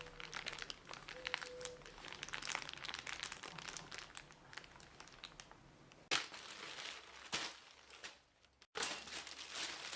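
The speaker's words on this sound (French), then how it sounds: "Cette action étant donc accompagnée des bruits de froissement." A light, thin paper-like object is crumpled in a long run of crinkling, dense irregular crackles that pause briefly and resume in bursts, quiet and close, with no voices.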